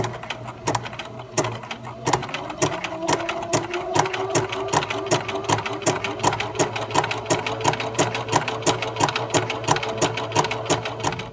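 A Bernina sewing machine stitches a Spanish hemstitch with ribbons, producing a steady, rhythmic mechanical clatter of rapid needle strokes with a low motor hum underneath, close and alone.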